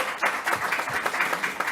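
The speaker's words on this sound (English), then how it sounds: "You can clap on that." Crowd applause at an outdoor news conference at Sahlen Field baseball stadium in Buffalo, a steady wash of many hands clapping for under two seconds, moderately loud and slightly distant, with no talking over it.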